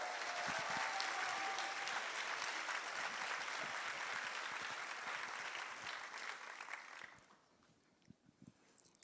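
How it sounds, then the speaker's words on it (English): An opening-ceremony audience claps loudly and densely for about seven seconds, then the applause drops away to a few scattered claps, with no speech over it. "So applause for yourselves,"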